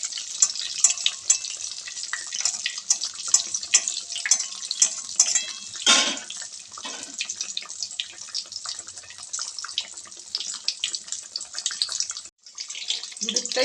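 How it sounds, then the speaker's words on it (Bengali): Batter-dipped fish fillet frying in oil at medium heat, a bright, crackling sizzle that runs loud and continuous, with a brief burst of louder spitting midway and a momentary dip near the end. "একটা ফিলে ব্যাটারে ডুবিয়ে ছেড়ে দিলাম। এবার একটু ভাজা হতে দেবো 2-3 মিনিট ধরে।"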